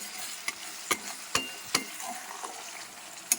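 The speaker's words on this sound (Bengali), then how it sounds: "ভালো করে এটাকে নাড়াচাড়া করে নেব" Masala fried with mutton in a pan gives a soft continuous sizzle, cut by several sharp scrapes and clicks of a spoon stirring against the metal, close and fairly quiet.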